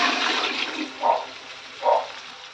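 Water rushes steadily into a pot for mixed biryani, a continuous pouring wash broken by two brief gurgling swells near the end.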